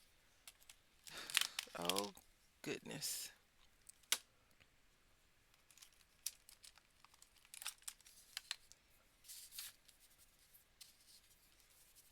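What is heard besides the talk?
paper being torn and crumpled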